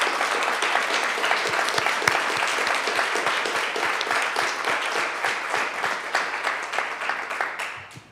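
Sustained, close applause from an audience for two candidates, a dense wash of clapping that thins slightly and tapers off at the end.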